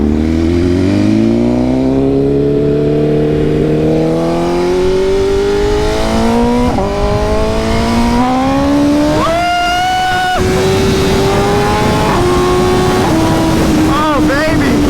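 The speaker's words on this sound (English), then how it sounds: "You barely cracked the throttle and it just freaking rips." A 2025 BMW S1000RR motorcycle with a stage 1 tune accelerates hard through the gears, its engine note climbing steadily with quick shift breaks, loud and close with wind rushing over the microphone.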